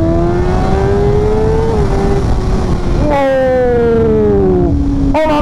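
A Kawasaki ZX-6R 636 sport motorcycle with a reversed shift pattern revs hard while riding, its engine note climbing, dropping at a gear change, then surging again, loud and close under heavy wind noise.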